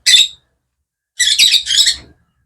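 Pet birds in a home aviary let out three sharp, high squawks, one short call followed after a pause by two quick ones in a row, close and loud against silence.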